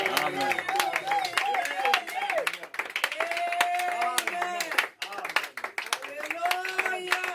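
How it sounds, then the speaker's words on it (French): Hands clap continuously across a church congregation, loud and near. Voices call out and sing over the dense, crisp clapping throughout. "Alléluia. Applaudissez pour le Seigneur"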